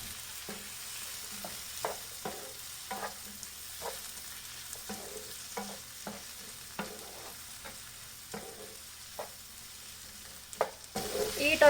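Chopped medium tomatoes being stirred in a frying pan for a prawn roast, with a soft sizzle under repeated scraping and clinking of a spoon against the pan, close and fairly quiet with no talking.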